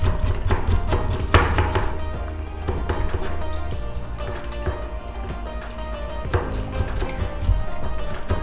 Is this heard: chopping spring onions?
yes